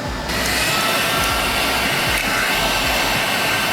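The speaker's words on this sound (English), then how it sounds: "Then you take your heat gun, this heat gun, put it on low." A heat gun set to low, used on a 2012 Camaro SS rear spoiler, runs with a steady, loud blowing whir after a brief switch-on, constant and close with no talking.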